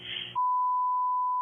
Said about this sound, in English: The number that was beeped out